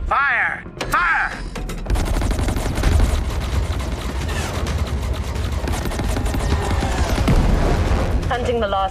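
Dense space battle gunfire from the Chorus video game pours out as a loud, continuous barrage of rapid shots and booms. Brief voices come through near the start.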